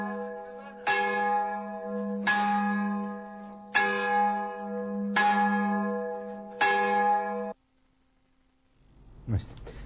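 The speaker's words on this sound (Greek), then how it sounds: "Καμπάνες στην Αιγαίλια" Church bells in Aigeila toll mournfully at noon in protest, five loud evenly spaced strokes about every 1.5 seconds with long ringing overtones, followed by silence and a brief knock.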